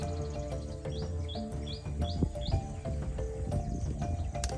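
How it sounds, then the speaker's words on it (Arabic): Wild songbirds chirp in a quiet nature reserve forest at Udawalawe, with repeated sweeping high calls and scattered tweets over a steady rustling background, moderately close. "وتسمع بس أصوات العصافير والطيور البرية"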